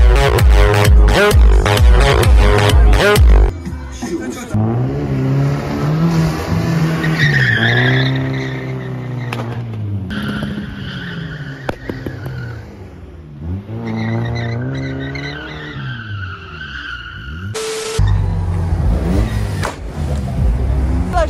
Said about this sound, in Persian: این صدای اگزوزی هم که شنید صدای اگزوز مجید بود.